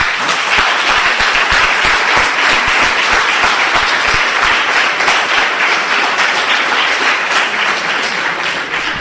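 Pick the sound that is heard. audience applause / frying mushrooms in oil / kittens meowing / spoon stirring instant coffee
audience applause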